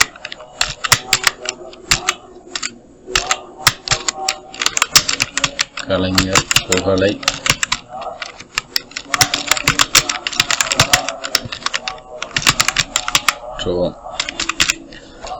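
Keys clatter in rapid bursts on a computer keyboard while a banner message is typed, the clicks close and fairly loud with a person talking over much of it.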